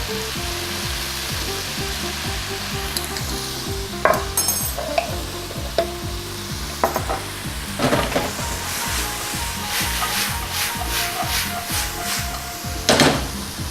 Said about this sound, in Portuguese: E a gente vai então salteando a cebola e vamos deixá-la bem dourada.